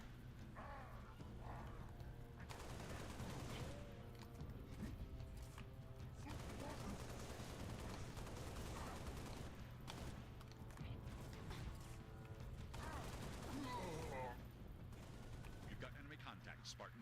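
Gunfire in the video game Halo Reach crackles in repeated bursts and volleys throughout, set against a steady in-game background hum, with voices calling out between the shots.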